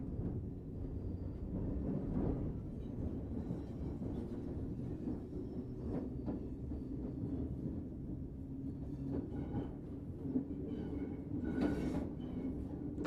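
An electric train running under power through London between London Bridge and Cannon Street at restricted speed, a low steady rumble with faint intermittent clanks and squeals, moderately quiet and continuous.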